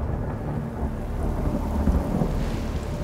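Thunderstorm with a steady roll of low thunder and dense rain, loud and continuous throughout, with no voices.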